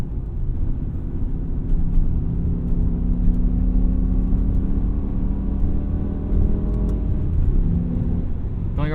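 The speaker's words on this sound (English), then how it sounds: "going over these bumps" A 2008 BMW E60 M5 rolls over bumps on a back road, giving a steady low engine and road rumble with a constant drone and a faint rising whine near the end, no talk.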